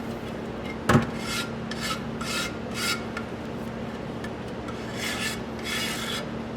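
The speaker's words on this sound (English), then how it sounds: "So we're going to take our shore form here, or our shredder, or whatever you want to call it, and we're just going to go along the edges." A surform rasp shaves the edges of a plaster mold in repeated close strokes, each a rough rasping rub, with a sharp knock near the start.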